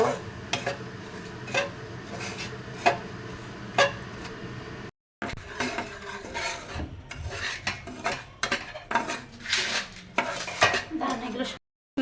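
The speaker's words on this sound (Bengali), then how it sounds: "সুজিটা একটু রোস্টেড করে নেই একটু ব্রাউন কালার হওয়া পর্যন্ত আমি এটা একটু রোস্টেড করব" Semolina is dry-roasted in a pan for jaggery halwa, with a spoon repeatedly scraping and clinking against the metal in uneven strokes, close up, broken by a short pause of silence midway.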